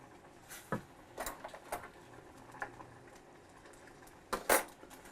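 Irregular wet clinks and scrapes of a utensil stirring creamy Southern creamed corn in a pot, soft close taps with a couple of louder knocks near the end.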